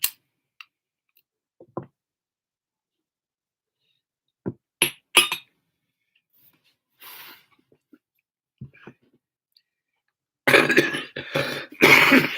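Scattered short sounds and silences give way to a burst of harsh coughing near the end, loud and close.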